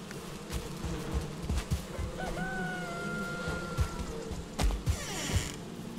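Chickens clucking in the video game Valheim, soft clucks and short calls scattered over a steady busy background hum, with a thin drawn-out tone drifting through the middle.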